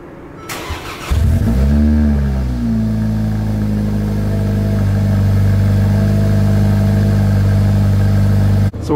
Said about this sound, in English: Let's get that cold start going.